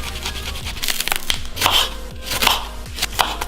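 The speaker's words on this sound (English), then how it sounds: "So I'm just going to slice, just be roughly chopped" A knife chops sausages on a cutting board for a low-fat curried sausage stew, giving quick, sharp, close-up thunks in an uneven rhythm of about a dozen strokes.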